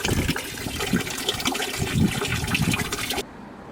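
Water rushes steadily and loudly into a Lumi Recovery Pod tub, a dense splashing gush that runs for about three seconds before cutting off.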